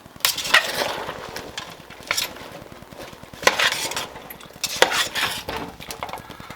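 A spoon stirs raisins through sticky apple pie filling in a pot, giving soft scraping and clinking strokes against the sides, with several louder clanks spaced a second or so apart and no talk.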